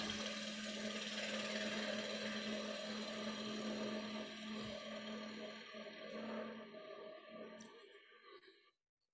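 A wood lathe spinning while a gouge cuts toward the center of a bowl, a steady motor hum with scraping cutting noise that continues for most of the time, then winds down and stops near the end.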